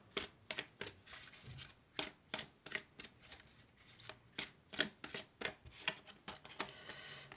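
Fairy tarot cards being shuffled by hand, a steady run of crisp, riffling card flicks and snaps, close and fairly quiet, with no talking.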